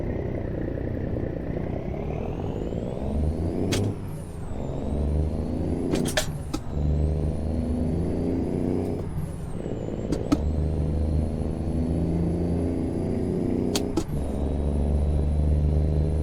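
A Jaguar XJ car passing in the American Truck Simulator driving game, with steady engine and road drone under a truck's running engine, brief whooshes and gear-shift dips.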